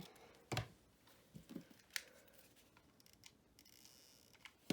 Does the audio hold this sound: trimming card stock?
yes